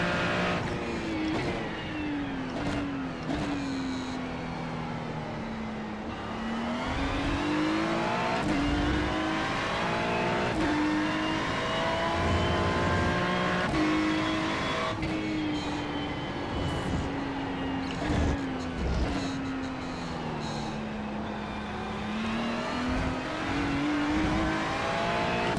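A racing car's engine on a track, droning and revving steadily through rising and falling gear pitches, loud and close, with occasional shifts and no talk.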